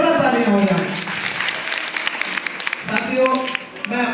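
Crowd applause at an Aastha Life Care Corporation gathering in honour of the family's chief guest, a steady wash of many hands clapping for several seconds, mixed with voices and cheering in the hall.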